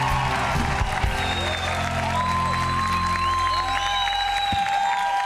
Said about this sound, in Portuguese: sob aplausos da plateia